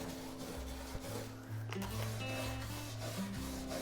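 Bronze brush rubbing and scrubbing dust from the crevices of a mirror frame, a steady close-up rasping scrub with rhythmic strokes; no voices.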